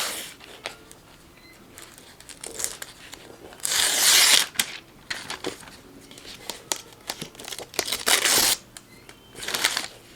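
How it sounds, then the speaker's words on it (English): A pin peels up scored material while making a sublimation patch: close, crackly crinkling and tearing bursts in uneven clusters with quieter gaps between. "Use the pin to then just peel up the material."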